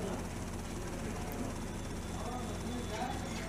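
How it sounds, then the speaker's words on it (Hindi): A helicopter in the GTA Vice City video game makes a steady, low rotor drone with a rapid chop, running continuously under a voice that talks over it. "इधर है हेलीकॉप्टर"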